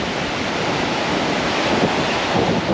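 Ocean waves breaking on a shallow shingle beach at Southbourne, Dorset, where someone is fishing: a steady, loud roar of surf with gusts of wind buffeting the microphone and no voices.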